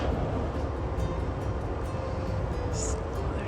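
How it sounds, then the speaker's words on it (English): Trains leave a station at night, heard as a low steady rumble and rolling drone that stays distant and fairly quiet, with a brief higher squeal partway through. "Other trains leaving."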